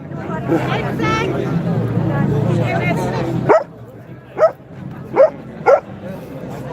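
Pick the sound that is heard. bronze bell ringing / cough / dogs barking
dogs barking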